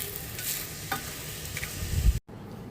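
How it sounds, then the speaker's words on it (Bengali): Turmeric-and-salt-coated fish fry in a pan with a soft, steady sizzle and a few stirring scrapes before the sound cuts off abruptly near the end. "এখন মাছগুলো আমি ভেজে নেব।"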